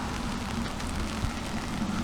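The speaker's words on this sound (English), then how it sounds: "I like the drop sound." Raindrops patter steadily on a Berlin street, forming a dense, even hiss of rain with no talking.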